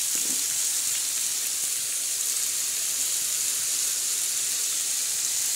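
Radish chutney goes into hot oil on a griddle, giving a soft, steady hiss and sizzle after a brief faint clatter at the start, with no one talking.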